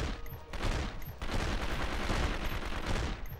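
Dense, rapid gunfire from the video game 24 The Game rattles continuously in overlapping bursts, loud and close for the whole stretch.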